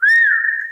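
One person gives a short, loud, close whistle, a single clear tone that rises slightly and then holds steady before cutting off.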